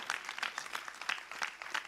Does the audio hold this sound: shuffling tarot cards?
no